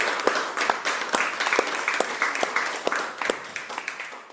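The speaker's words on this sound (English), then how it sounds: "give yourself a round of applause" A small yoga class applauding at the end of a live power yoga session, a handful of people clapping with distinct individual claps that gradually thin out, close and unaccompanied.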